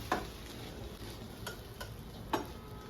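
Egg-coated bread pieces fry in a pan over a low flame with a soft, steady sizzle, broken by a few faint sharp ticks and clinks up close.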